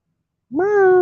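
A cat gives a single clear, drawn-out meow that starts suddenly after a silent pause, close and loud.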